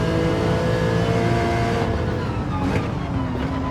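A car engine in a racing simulator video game, a loud, continuous whirring drone that holds steady and then shifts slightly in pitch near the end.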